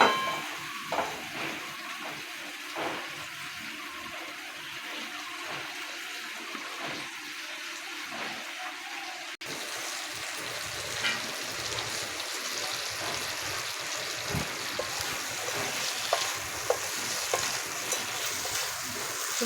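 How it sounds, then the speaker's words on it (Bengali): Fried eggplant pieces are stirred with cooked spice paste in a frying pan, a soft, fairly faint sizzle with scattered light scraping and clinks of the utensil and no speech. "এবার ভেজে রাখা বেগুনগুলো দিয়ে দেবো।"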